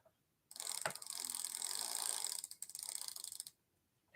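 A pedal threaded by hand onto the reverse-threaded left crank of a Juiced RipRacer e-bike makes a close, steady ratcheting clatter for about three seconds, then stops.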